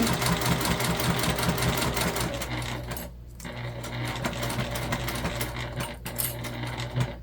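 Sewing machine stitching a waist pack, running steadily with a rapid mechanical rhythm that pauses briefly and then resumes, close and loud throughout with no talking.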